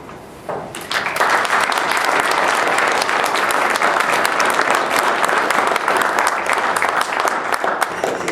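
Audience applause for someone speaker after an intense personal story at a university post-film discussion event, sustained dense clapping for about eight seconds at steady loudness after a brief quieter start.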